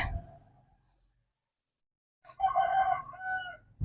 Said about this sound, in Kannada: ನೋಡಿ ಬೆಳಗ್ಗೆ ಕೋಳಿ ಕೂಗ್ತಾ ಇದೆ ಎಷ್ಟು ಜೋರ ಕೋಳಿ ಕೂಗುತ್ತೆ